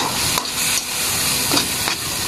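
Corned beef mixture stirred in a pan, giving a steady sizzling hiss with soft, repeated scraping strokes of the spoon at close range.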